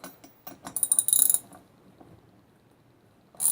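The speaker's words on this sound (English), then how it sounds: "So the next thing we need to do is remove this nut and pull this wheel off." A nut coming off a chain hoist wheel, heard as a close run of ratcheting, clicking mechanical turns that builds and then stops, with a brief clatter at the end.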